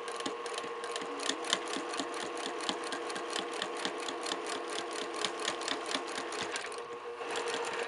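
A sewing machine stitches a quilt block with a fast, steady run of needle taps at close range, quiet and even throughout, slowing briefly near the end before resuming.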